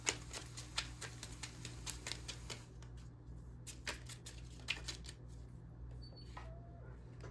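Kipper cards shuffle in quick, crisp riffling clicks, dense at first and then thinning into scattered taps over a low steady hum, quiet and close, with no speech.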